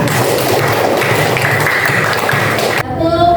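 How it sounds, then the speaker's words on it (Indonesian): Applause for everyone at a school lesson on coding and computational thinking: loud, dense clapping from a group in a room, sustained throughout before cutting to a quieter tone at the end. "Ya, tepuk tangan untuk kita semua."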